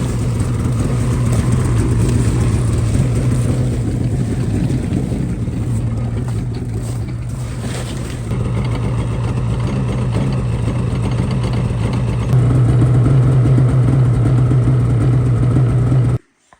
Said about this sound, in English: A couple of pulls on the pull start, and I got this one going, and we're gonna let it warm up.